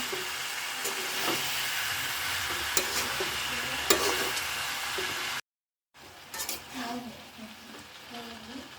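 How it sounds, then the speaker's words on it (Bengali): Flat beans and potatoes are stirred and fried in a pan, giving a steady hissing sizzle with intermittent scrapes of the spatula, close by, broken by a brief cut to silence before the frying resumes. "এই যে আমি সিম আলুগুলো ভাজি করে নিচ্ছি"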